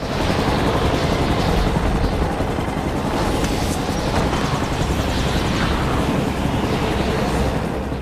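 A helicopter with its back ramp lowered roars loud and close, a dense, continuous rotor and engine noise with bursts of rumbling impacts mixed in.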